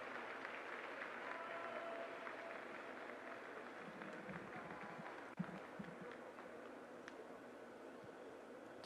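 A stadium crowd at a youth football game, a U-16 select match against Panama, applauding an injured player: a steady, distant wash of clapping that stays even throughout, with one sharp knock partway through.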